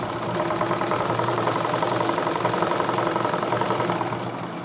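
A sewing machine stitching elastic onto cloth, running as a steady, fast, close mechanical whir and rattle that holds for several seconds without pause and without speech.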